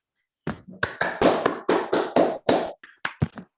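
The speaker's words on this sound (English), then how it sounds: "Oh, clapping." A short run of about ten sharp handclaps at a 2021 conference session, close and fairly loud, with uneven spacing and no talking.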